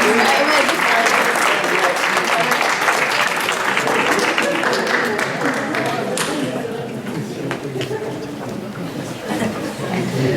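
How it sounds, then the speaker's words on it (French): Audience applause for a magician as he comes on stage at a radio station's 30th anniversary celebration, steady and dense clapping from a sizeable crowd that fades slightly toward the end, with some chatter mixed in. "Le magicien qui arrive, je vous demande de l'applaudir"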